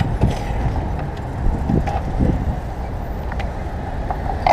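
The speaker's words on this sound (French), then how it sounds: "Là, il y a une voiture qui vient de brûler un feu," A car runs a red traffic light on a city street, heard as a continuous low road rumble with traffic noise. Nearby wind and movement are mixed in.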